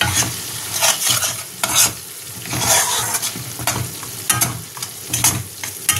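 Whole spices and ingredients being stirred and fried in a small amount of oil for chital fish curry: a close, loud sizzle broken by repeated scraping strokes of a spatula in an uneven rhythm.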